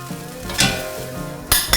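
Spices for an Indian tadka hit hot oil with a bright sizzle, punctuated by a few sharp clinks of a utensil against the pan; no one speaks.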